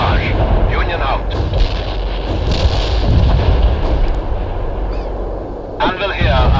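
Heavy mortar barrage explosions boom in the World in Conflict game, with dense rolling blasts layered continuously over one another and loud throughout, under a rumbling battlefield din.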